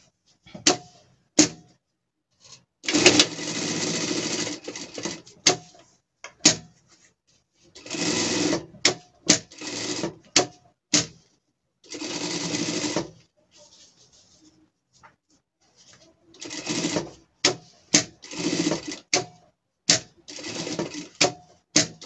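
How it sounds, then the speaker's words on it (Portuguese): A sewing machine stitches a safety seam on a gaucho-style pet costume, running in several short and longer bursts separated by pauses, close and fairly loud. "passar a costura de segurança também"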